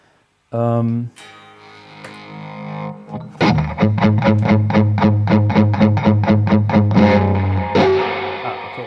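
An electric guitar plays through an amp: a sustained chord, then a rapid rhythmic chugging strum with a reverberant, slightly distorted tone.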